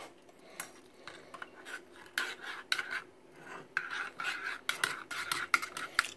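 A spoon scrapes and rasps against a small metal pot while stirring Turkish coffee, irregular close scratchy strokes and light clinks, fairly quiet with no talking.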